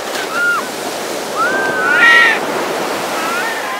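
Sea surf on the beach at Nha Trang keeps up a steady, broad wash of waves, with a few crow-like bird calls rising over it and no clear speech.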